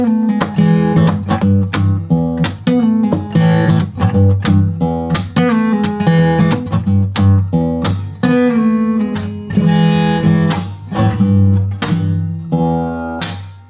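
Acoustic blues guitar plays the going down riff, a loud, steady strummed and picked pattern with repeated bass notes and chord stabs, alone and up close with no talking.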